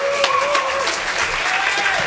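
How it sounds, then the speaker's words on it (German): A live concert audience claps loudly and steadily, dense applause filling the moment with a few scattered cheers and whistles. "jetzt dicken Applaus"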